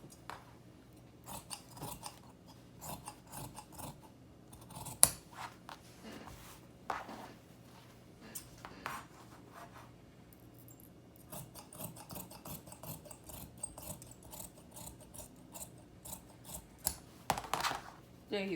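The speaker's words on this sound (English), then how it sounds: "So I'm cutting this out. And I'm cutting the back out." Scissors cutting fabric for a maxi skirt, faint irregular snipping and rasping fabric rubs scattered throughout, quiet and close with short pauses between cuts.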